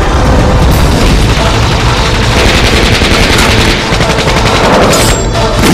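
Rapid, continuous automatic gunfire from the mobile game Boom Brigade roars loudly throughout, dense overlapping bursts with booming low end and no pauses.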